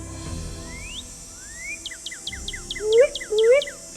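Northern cardinal call played in a Nancy Drew mystery game, a series of bright, rising whistled slurs and rapid repeated chirps, clear and fairly close, ending in two loud swooping notes, with no talk.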